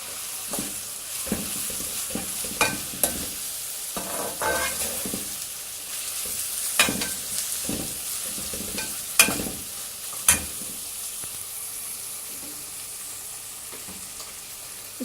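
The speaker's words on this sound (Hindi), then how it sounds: "उसके बाद मैं थोड़ा सा घी और ऐड करके प्याज फ्राई कर रही हूँ।" Onions frying in ghee for bhindi handi sizzle steadily up close, punctuated by repeated scraping stirs and clinks of a spoon against the pan, with no voices.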